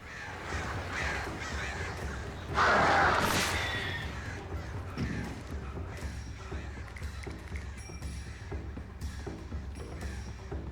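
Crows cawing in the video game Alan Wake, a few harsh caws with one loud burst near the start, set against a dark ambient rumble and faint mechanical creaks.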